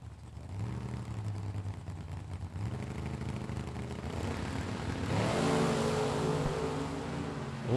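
Chevrolet Camaro and Monte Carlo drag race cars launch and accelerate hard at a drag strip, their engines climbing in pitch and swelling louder toward the end of a steady roar.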